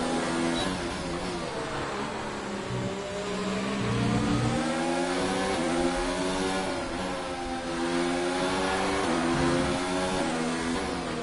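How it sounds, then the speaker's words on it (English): An F1 race car engine in the F1 2019 video game revs hard and steadily, rising and falling in pitch through the corners of a race at Australia, loud and continuous with no voices over it. "Let's just hear the engine for now as he closes it on Spike."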